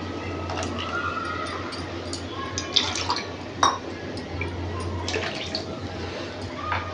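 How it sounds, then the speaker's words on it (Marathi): Water splashes and sloshes as a mixer grinder jar is rinsed out at close range. Soft gurgling runs throughout, with a few knocks and clinks. "आता मिक्सरसुद्धा धुवून घेते."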